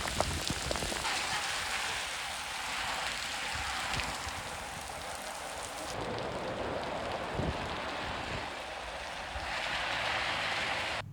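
Steady, heavy rain pours down at a castle in Krakow, a dense, continuous hiss, close and loud throughout with no voices.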